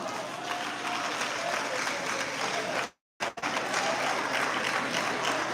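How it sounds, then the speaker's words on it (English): A gathered audience claps for a senior nurse, a steady, dense round of applause that cuts out briefly partway through and then resumes just as full. "Please, let's clap for this woman."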